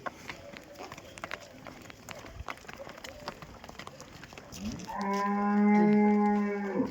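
A Jersey cow lets out one long, loud, close moo near the end, after several seconds of quieter rustling and scattered knocks from the farmyard.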